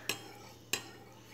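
Spoon scraping through jelly in a cooking pot, two brief distinct clinks about half a second apart, close and quiet over a low hum.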